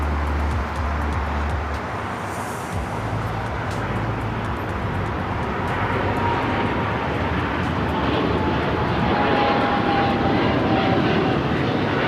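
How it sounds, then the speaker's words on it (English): A British Airways Boeing 777-300ER airliner takes off at LAX, its jet engines a broad, continuous roar that holds loud and steady from a distance throughout, with no voices. "That is British Airways 282 taking off to London Heathrow"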